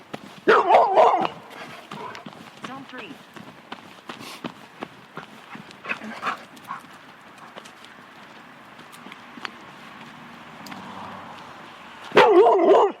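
A dog barks in loud, close bursts at the start and again near the end, with scattered thumps, footsteps and a brief spoken phrase in between.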